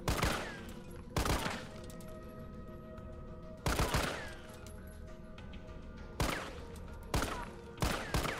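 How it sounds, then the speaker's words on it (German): Loud bursts of gunfire in Resident Evil 3 Remake, in several separate volleys, each a rapid cluster of shots with ringing echoes between, over a steady background hum. "jetzt haben wir ein paar Schüsse getestet"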